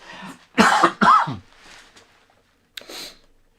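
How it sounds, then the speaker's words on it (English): Two harsh coughs in quick succession, close and loud, followed by a quieter throat sound after a short pause. "now I'm going to cough"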